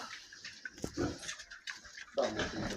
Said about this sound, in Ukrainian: Свиням поклали трішки так кропиви, вони її навіть і не в баняку їдять